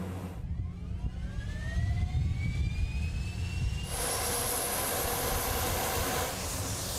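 A customs aircraft lands on an old airstrip, its jet engine noise loud and steady with a rising whine and a broad roar that shifts partway through.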